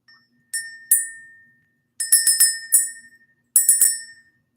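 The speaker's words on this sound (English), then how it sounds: "Let's ring the bell." A small bell is rung in three quick bursts at the start of a spiritual reading, each a cluster of bright, clear chimes with lingering metallic overtones ringing out in a quiet room.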